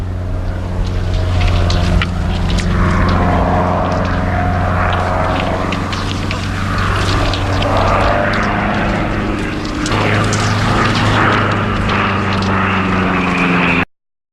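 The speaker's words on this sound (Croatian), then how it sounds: "Avioni!" Propeller airplanes pass overhead above a ski slope, a loud steady engine drone with harmonic hum running nearly the whole time, a shift in pitch partway through, and scattered sharper noises over it.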